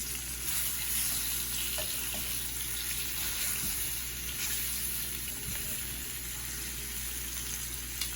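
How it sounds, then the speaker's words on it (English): Pork spare ribs sizzle and fry in a fryer as a continuous, even crackle of hot grease that stays steady throughout. "once I take it out of the fryer"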